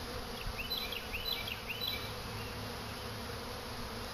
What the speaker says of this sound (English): The swarm that just came into my trap wasn't very big.